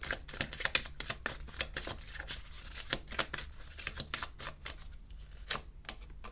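Tarot cards are shuffled by hand in a quick run of crisp, close riffling clicks and flutters, repeating irregularly throughout with no talking.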